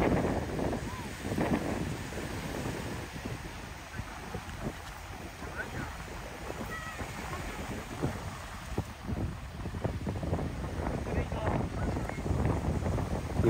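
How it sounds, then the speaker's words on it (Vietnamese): Large ocean waves at a beach in Japan roll and wash in with a broad, continuous roar, with heavy wind buffeting the microphone and a voice talking over it. "Anh em có thể thấy là Nhật Bản những con sóng rất là to và đẹp luôn."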